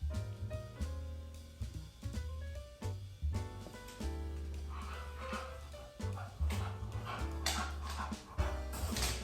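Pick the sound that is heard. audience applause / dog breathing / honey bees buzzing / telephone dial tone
dog breathing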